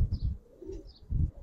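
A Giribaz pigeon coos softly in low, rounded pulses, with a few faint higher chirps between them; the sound is close but quiet, and no one speaks.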